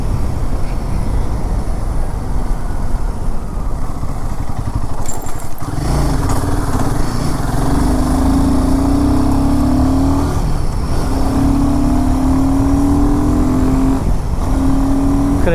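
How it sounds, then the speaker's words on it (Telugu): A Royal Enfield Himalayan 450 motorcycle runs with a steady, loud exhaust note that rises in pitch in a few revving pulls, close by and with no talk over it. "ఎగ్జాస్ట్ నోట్ చూడండి, మంచి బేసిక్గా ఉంటుంది."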